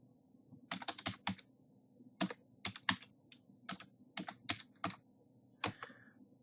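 Keys on a computer keyboard tapped in short irregular bursts, about a dozen crisp clicks spread over several seconds, close and fairly quiet over a faint low hum, with no voices.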